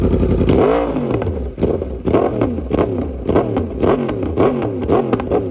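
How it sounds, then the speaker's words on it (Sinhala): A Yamaha R1 sport motorcycle fitted with an Arrow exhaust system revving up close and loud, one long rising rev followed by a series of quick, rhythmic throttle blips that rise and fall, with no talk. "ලෝකේ තියෙන ලස්සනම බයික් එක්සොස් නෝට් එක තියෙන මෙන්න මේ R1 බයික් එකේ ඒ එක්සොස් නෝට් එක ලස්සනට එළියට දෙන්න උදව් වෙන Arrow එක්සොස් සිස්ටම් එකක්"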